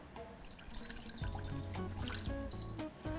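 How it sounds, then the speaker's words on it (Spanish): Water runs from a tap into a thick-bottomed saucepan in a kitchen while pistachio paste is being made, a steady close splashing and trickling that shifts in pitch as the pan fills, with no talk. "vamos a buscar entonces una cacerola que tiene que ser de fondo grueso, donde vamos a colocar agua"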